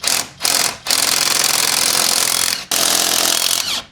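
Pneumatic impact wrench loosening rear suspension bolts on a BMW E91 during a coilover install, loud sustained buzzing bursts with brief pauses between pulls, close up and alone.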